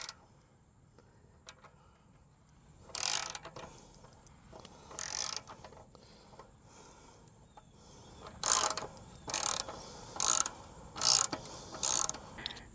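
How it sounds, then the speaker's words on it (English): A hand ratchet fitted with a 10mm 6-point socket loosens a clamp bolt on a 2018 Kawasaki Ninja H2 SX, giving short bursts of close, crisp pawl clicking separated by quiet pauses. "This one is a 10mm, and I'm going to loosen the clamp on, loosen the bolt on the clamp."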